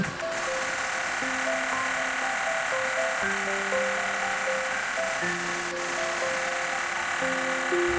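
A Perfect Shape NEO body sculpting machine runs steadily throughout, giving a constant electronic hum overlaid with a slow sequence of shifting tonal beeps or pulses, loud and close with no talking.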